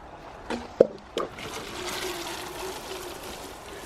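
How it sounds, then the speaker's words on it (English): A two-gallon watering can pouring water onto a bone-dry raspberry bed, a soft continuous trickle and splash after a few knocks, close and quiet, with no speech. "I'm going to put a can of water on it first before I put the feed on"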